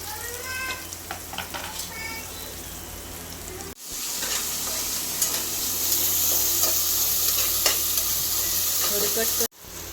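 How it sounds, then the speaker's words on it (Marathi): Onion frying in hot oil in a pan gives a continuous close hiss and sizzle that grows louder after a brief break, with stirring scrapes throughout and no talking. "तेल गरम झाले आहे कांदा आपल्याला फ्राय करून घ्यायचा आहे"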